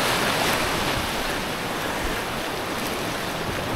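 Ocean waves in Palawan wash in a continuous broad roar, loud and close, with wind buffeting the microphone.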